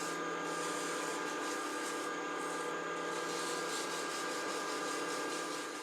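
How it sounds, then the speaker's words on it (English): Sandpaper rubbing a wooden piece spinning on a lathe, worked up to 220 grit: a continuous, fairly quiet broadband hiss with a steady motor hum beneath, no talking. "I've got it sanded up to 220, got this end smoothed off"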